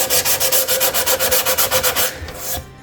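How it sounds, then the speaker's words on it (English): Furniture edges coated in clay paint are sanded by hand with 120 grit sandpaper: close, loud, rapid back-and-forth rasping strokes in an even rhythm, about a dozen and a half, that then slow and fade, with no talk. "I'm now going to go in with some 120 grit sandpaper"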